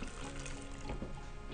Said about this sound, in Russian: Теперь берем крутой кипяток и заливаем наши помидорчики.